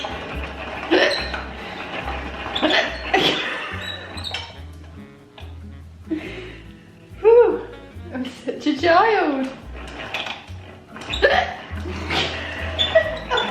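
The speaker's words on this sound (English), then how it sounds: "Is it just me that kind of low-key likes having the hiccups?" A woman hiccups repeatedly and loudly at uneven intervals, close up, mixed with her own laughter and some talking between the hiccups.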